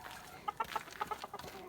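Several short clucks from chickens nearby, quick irregular bursts over about a second, fairly faint against a quiet background.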